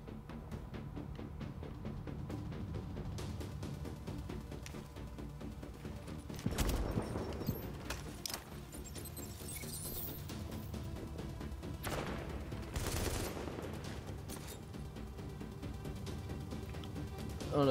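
Gunfire in The Division video game: distant, quiet bursts of shots with a couple of louder cracks and booms standing out against a constant low background of combat noise.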